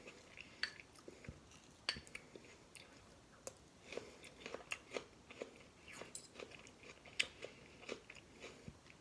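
Close, quiet chewing of a sweet savory chicken salad, with irregular soft crunches and wet bites spread over several seconds and no talking.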